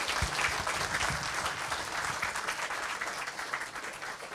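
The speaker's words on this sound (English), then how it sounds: "if we can have one final sort of round of applause for Murugiah" Steady applause from an audience at the close of a talk at IW23, dense clapping sustained throughout without a break.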